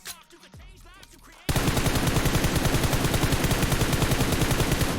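Gunfire in the mobile game PUBG Mobile: after a quieter opening second, a loud, sustained burst of rapid automatic shots fires in an even, pulsing rhythm right up close.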